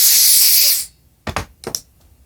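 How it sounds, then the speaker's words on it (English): Compressed air blasts onto the spring of an old 1980s Lawn-Boy two-stroke mower in one loud, close hissing burst of about a second, followed by a few light handling knocks. "I'm just going to blow the spring with a little bit of compressed air."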